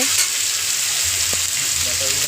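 Potatoes fry in hot oil in a pan for a fish curry with greens and capsicum, a loud, steady sizzle that goes on through the clip, with a faint stir or two and a brief murmur of voices.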